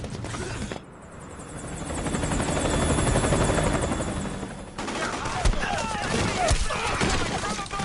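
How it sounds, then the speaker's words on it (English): A helicopter in Metal Gear Solid 4 thunders close and loud with a steady rotor chop, while gunfire and battlefield mechanisms crackle around it and a burst of sharp shots cuts through near the end. "Chopper!"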